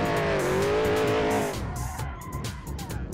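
A Porsche race car in a VR racing game roars at high revs and then skids with squealing tires as the engine note drops, loud and close with no talk.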